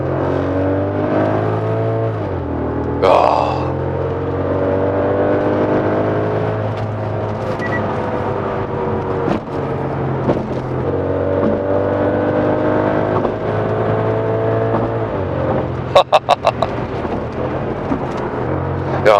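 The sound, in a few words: Audi S8 D3 with Lamborghini V10 engine revving exhaust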